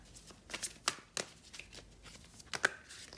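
Tarot cards are shuffled and drawn by hand, producing a few soft, quick riffling flutters and light slaps, close but quiet.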